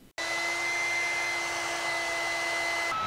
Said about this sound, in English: We've got a running hair dryer